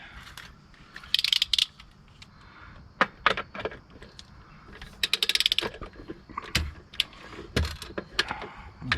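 Wheel lug nuts on an REO F20 truck being tightened with a ratchet, giving quick bursts of sharp metallic clicking separated by single knocks and clanks, close up with no talking.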